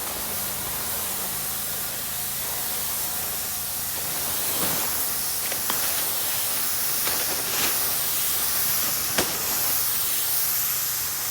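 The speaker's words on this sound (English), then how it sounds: "So right now Wilson is spraying a sealant." A spray gun steadily hisses as it applies sealant to a classic fast boat under restoration, a continuous broadband spray alone with a few brief bursts and clicks.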